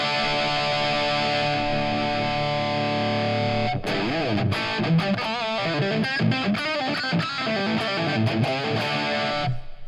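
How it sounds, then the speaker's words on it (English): An electric guitar run through a RAT distortion on a Fractal rig rings a sustained, saturated chord, then breaks into a choppy, rhythmic riff of driven stabs, loud and alone. "Also, I have in the channel C, for example, I can use a rat distortion."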